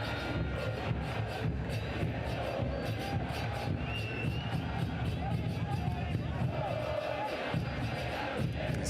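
Around 2,000 football fans fill a stadium at a Concacaf League match between Real CD España and CS Herediano, a steady roar of crowd noise and chanting, with commentary spoken over it.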